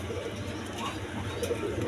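Desi and foreign coloured pigeons kept for sale from a farm give soft, low cooing over a continuous background hum, close by and without talk.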